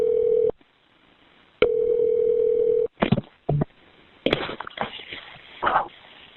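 A telephone tone sounds after a call is hung up: two steady beeps with a gap between them, followed by louder bursts of other noise.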